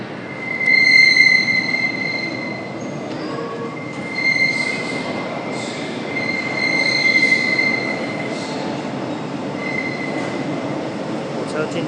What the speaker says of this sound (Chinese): 火车进站